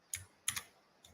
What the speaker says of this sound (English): just start typing.